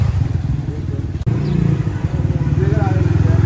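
A dirt bike engine runs steadily and loud throughout, with a rough low pulsing drone and a brief dip near the middle, while someone talks over it.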